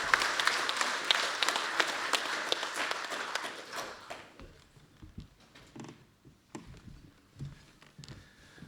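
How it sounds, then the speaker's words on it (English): Audience applause for a presenter at a wild trout talk, dense clapping for about four seconds that then thins into scattered claps, shuffling and faint room noise. "Another big round of applause for him."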